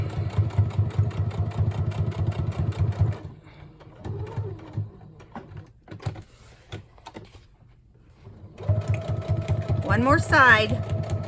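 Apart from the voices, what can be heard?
sewing machine stitching fabric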